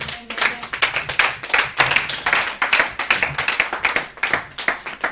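A church congregation claps in a quick, steady rhythm, loud and close, many hands beating together in acclaim with no talk over it.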